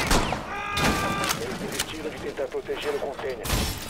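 Gunfire aimed at a door in Rainbow Six Siege: several sharp shots punctuate the round under excited talk from players.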